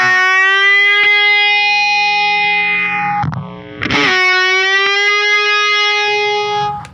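A heavily distorted electric guitar plays a pre-bend: a sustained note drops quickly, breaks briefly, then rises and rings out loud and steady with no talking.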